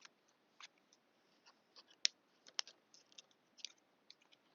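A card shuffled into a small stack of playing cards on a table, soft scattered clicks and light papery taps, quiet and close.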